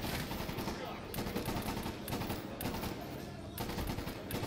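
Dense, continuous gunfire from enemy soldiers in the shooter game Medal of Honor Warfighter, Somalia mission, with rapid bursts and loud rattling shots layered throughout.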